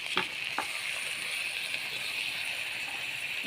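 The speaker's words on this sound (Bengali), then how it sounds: "সর্ষে বাটার জল দিয়ে দিচ্ছি" Mustard paste water poured into a hot pan for a Bengali egg curry, giving a steady broad hiss of sizzling with a couple of soft clinks near the start.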